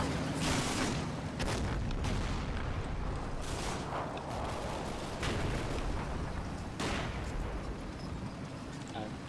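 Deep booms and blasts from bombs exploding in a combat video game, several heavy thuds spread across the clip over a constant rumbling background, fairly faint.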